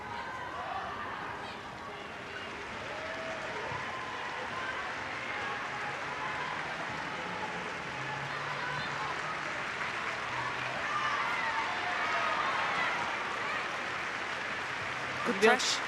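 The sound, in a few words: football fans applauding in tribute at stadium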